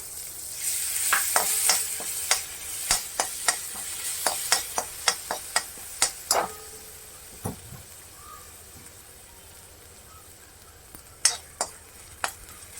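Ginger paste fries in a pan with a soft, continuous sizzle under a run of regular sharp taps and scrapes from a stirring spoon. The strokes come close and steady at first, then thin out to a few later strikes.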